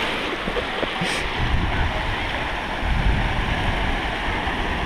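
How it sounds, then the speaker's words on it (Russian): Ocean waves roll in on the tide along the shore of Enoshima island in Japan, a steady broad wash of surf mixed with wind noise, with a few louder surges. "Во-во-во-во, волна идет,"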